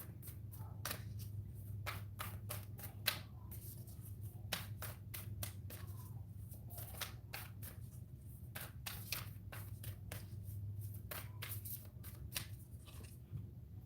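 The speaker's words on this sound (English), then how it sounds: "Let's go ahead and pull your Moonology card" Moonology oracle cards being shuffled by hand, a long run of crisp, fast riffling flutters and slaps with short pauses, close and fairly quiet over a low steady hum, no talking.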